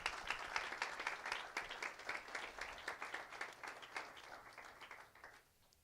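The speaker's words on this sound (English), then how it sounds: "Let's give my friend another round of applause." A school audience claps steadily in applause, a dense, sustained patter of many hands that fades out toward the end, with no talking over it.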